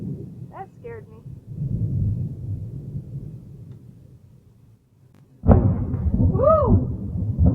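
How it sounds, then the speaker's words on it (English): Low rumbling thunder from nearby lightning rolls in the background, then a sharp, louder crack and rumble hits close by during a summer storm; excited voices cry out over it. "Now the lightning's getting closer."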